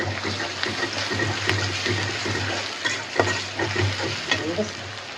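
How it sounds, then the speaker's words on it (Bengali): Constant close sizzling of a spice paste frying in a pan, with scraping and stirring knocks over a low steady hum. "এই দেখেন আমরা পেস্টে ভাজা ভাজা হয়ে গেছে"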